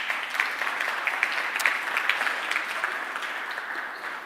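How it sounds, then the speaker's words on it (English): An audience at an annual general meeting applauds, dense steady clapping at moderate volume that holds evenly for several seconds before easing slightly at the end. "let's give them a round of applause"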